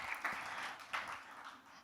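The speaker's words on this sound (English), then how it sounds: "Big applause for Penelope." Conference audience applause, a soft, fairly distant patter of clapping that rises in a couple of brief swells, heard at low level over a short stretch.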